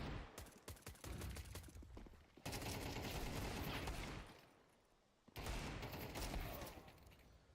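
Rapid, sharp Desert Eagle pistol shots ring out in a Counter-Strike match, in bursts of gunfire separated by short pauses with the game's background noise behind them, and no voices.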